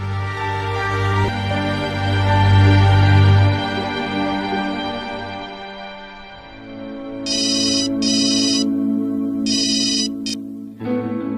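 Melodic phone ringtone playing loudly and close while a call to mother is placed, a sustained tonal tune followed by repeated short bright ringing bursts near the end.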